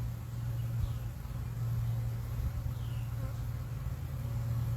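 Honeybees buzz at a hive in a bee yard, a steady, dense drone holding evenly throughout with the faint whine of single bees passing close, and no voices.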